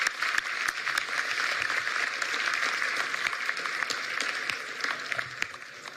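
An audience at a public education partnership event gives a round of applause, many hands clapping steadily at moderate volume with a few sharper individual claps standing out, no voices over it.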